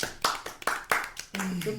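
A small group at a tabletop role-playing session claps briefly: about five sharp, close hand claps in quick succession, followed by talking.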